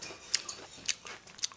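Quiet, close crunching bites of a crispy fried brinjal fritter, a few sharp crackles spread across a faint background, with no talking.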